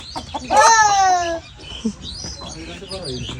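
Domestic chickens kept in a village coop: one loud, drawn-out call rings out near the start, followed by softer, scattered clucks over faint background noise.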